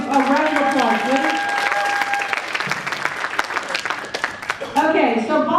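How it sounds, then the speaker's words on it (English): An audience applauds performers at an improv show, steady clapping from many hands running under excited voices and cheers, with a voice rising over it again near the end. "Everybody give Pierce and Logan a round of applause, please."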